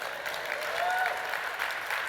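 A conference audience at a keynote event claps steadily for about two seconds, a dense, even wash of applause that swells slightly midway, with no voices on top.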